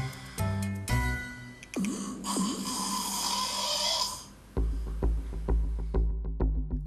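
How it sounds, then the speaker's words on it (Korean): A sleeper snores right after falling asleep, the habit linked to drinking alcohol and watching a smartphone before bed. Loud, rough snoring comes in uneven bursts, and short snorts and catches break up the breaths. "잠들자마자 시작된 코골이."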